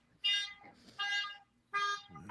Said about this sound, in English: No, like a car alarm.